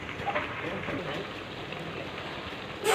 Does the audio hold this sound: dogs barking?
no